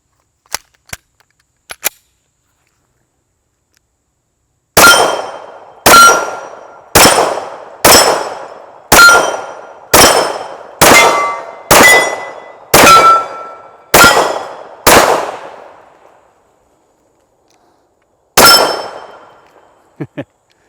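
Taurus PT 24/7 OSS DS .45 pistol fired outdoors: a few faint clicks, then ten loud sharp shots in a steady rhythm roughly one per second, each trailing a short ringing echo, followed by a lone final shot.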